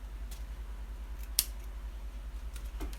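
Scissors snip a few times, trimming the roots of an aquarium plant: soft, faint, isolated clicks over a quiet background.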